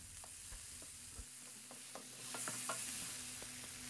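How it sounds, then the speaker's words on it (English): Fresh seasoning sautéing in a tablespoon of oil for tin mackerel pizza, a soft steady sizzle with light rhythmic taps and scrapes from stirring, close but fairly quiet. "now step 2 is to saute our fresh seasoning in 1"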